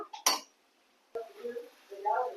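A metal spoon scrapes and clinks against a cooking pot as chopped greens are stirred in, a few short bursts of clatter with quiet gaps between them.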